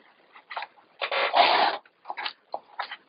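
A paper trimmer slices through card stock for a handmade watercolor card: a brief scraping cut in the middle, with a few soft clicks and taps of the blade and paper before and after. Close and fairly quiet, with no talking.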